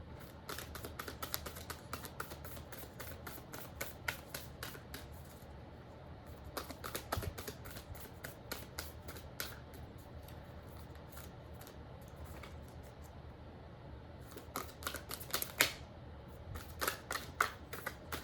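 Rapid, dry card flicks and riffles come in bursts with short pauses between, close and fairly quiet, as a thick deck of large tarot cards is shuffled.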